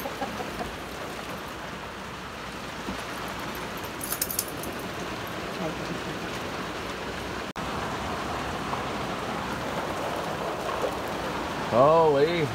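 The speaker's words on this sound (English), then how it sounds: "it's raining hard" Heavy rain falls steadily outdoors at night, a continuous moderate hiss under occasional voices, with a brief jingle of keys and a short call near the end.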